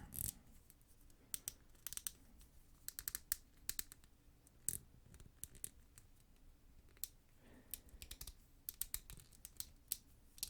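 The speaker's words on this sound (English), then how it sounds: "So I'll just move them a little bit so we get some little joint sounds here for your ASMR" Plastic action figure joints click and creak in soft, irregular bursts of small sharp ticks, close and quiet, with no talking.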